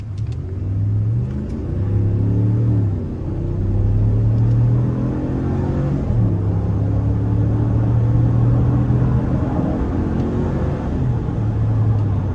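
A 2019 Ram 1500 Laramie with the 5.7 V8 under full-throttle acceleration, heard from inside the cab: a loud, deep engine roar climbing in pitch through several gear changes, each shift dropping the tone before it rises again.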